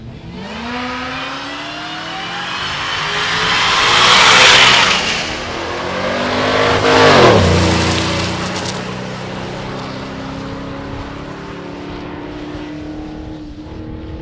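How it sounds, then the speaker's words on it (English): A Chevrolet C10 pickup truck launches and accelerates hard in a drag race, engine roaring loud and close, another car rising and passing, then fading into a steady distant drone. "Eric Grillo here in his C10 truck that he had in high school out here racing in the left lane here"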